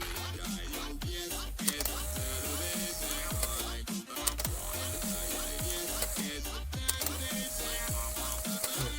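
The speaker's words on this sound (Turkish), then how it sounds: "Burada vidalama yaparken" Screw being driven into wood with a power driver, a continuous whirring, ratcheting mechanical sound that holds steady and fairly loud for the full stretch, with brief dips and clicks, no talk.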